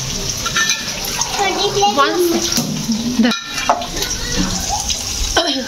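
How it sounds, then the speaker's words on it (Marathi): Green chilies dropped straight into hot oil sizzle and crackle steadily up close, with talking voices over the frying. "तेलात डायरेक्ट मिरची टाकून दिली"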